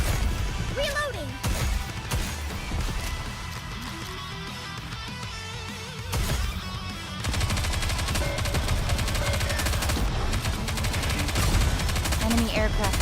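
Battle in the game NIKKE, with dense, sustained gunfire and rattling bursts running almost without a break under a busy mix of music and game voices, growing heavier in the second half.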